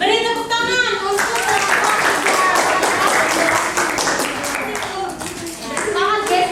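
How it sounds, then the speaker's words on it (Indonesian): Pupils in a classroom clap together in a brisk burst of applause while voices talk over it, with speech continuing before and after. "Beri tepuk tangan untuk"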